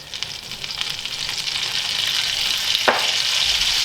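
Minced garlic sizzles in melted butter in a sauté pan, a loud steady hiss that continues without break and is close to the listener.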